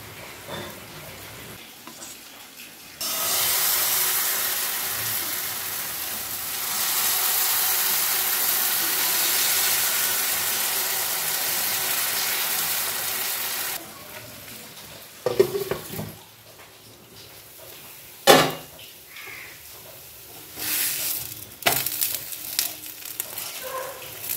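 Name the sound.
batter frying in a little oil in a hot pan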